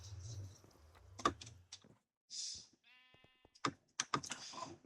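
Sheep bleating on a farm in Minecraft, a couple of short bleats standing out among clicky game sounds and scattered footsteps, fairly quiet overall.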